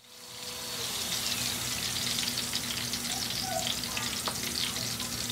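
Onion frying in heated oil for a beans and smoked fish dish, a loud continuous sizzle that swells in over the first second and stays dense and close, with a faint background hum.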